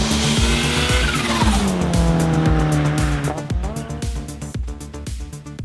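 A Mitsubishi 3000GT VR4 Spyder's engine revs up through the gears with rising and falling pitch, close and loud, with tires squealing and clicks of shifting along the way.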